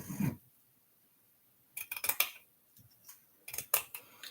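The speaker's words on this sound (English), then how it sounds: "So I'm going to cut this jute now." Very small, sharp scissors snip through jute in a quiet room: a soft rustle at the start, then a cluster of crisp cuts and a few more snips near the end.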